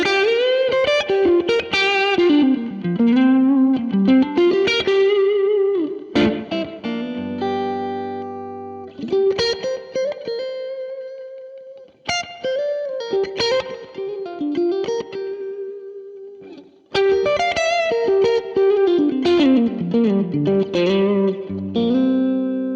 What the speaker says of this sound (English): And we kick on the tube screamer for this.